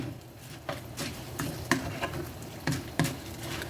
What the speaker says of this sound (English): And now I'm just going to stir this.